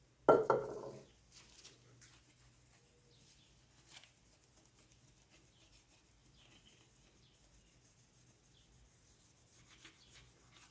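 Scrubbing slug slime off a BMW E46 differential part, a quiet, irregular rubbing and brushing scrape that starts with a brief louder burst and continues faintly.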